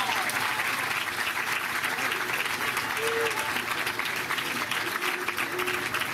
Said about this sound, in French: Et je vous demande de les applaudir.